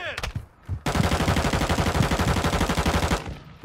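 Automatic gunfire in the video game Warzone 2: a long, loud, steady rapid-fire burst of about two and a half seconds, close by, with brief talk and game noise before it.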